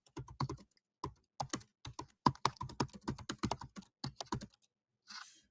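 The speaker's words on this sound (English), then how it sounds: "I'll just type it in here." Computer keys clack in quick bursts of typing, close and crisp, with short pauses between clusters and a brief softer rustle at the end.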